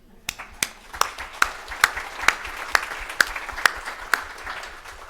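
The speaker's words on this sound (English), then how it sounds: "You deserve a round of applause" Sparse, evenly spaced hand claps at a health workforce well-being celebration, about a dozen sharp claps in a slow steady rhythm over a quiet room, close and fairly loud.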